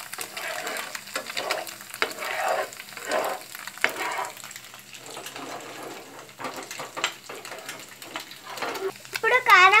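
An egg fries in a pan for egg Maggi noodles, giving a steady close sizzle with occasional stirring scrapes while a voice talks over it throughout.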